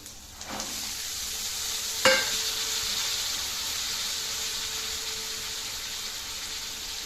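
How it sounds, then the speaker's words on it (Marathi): Chickpeas (chana) being sautéed in a pan with red chili powder for chaat, a steady close sizzle with a couple of sharp stirring clinks early on, continuous frying hiss throughout. "त्याला परतून घेऊया। आणि आता हे आपले चणे"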